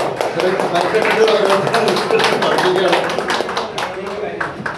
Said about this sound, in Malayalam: എല്ലാവരും ഓരോരോ കൈയടിച്ച് പ്രോത്സാഹിപ്പിക്കട്ട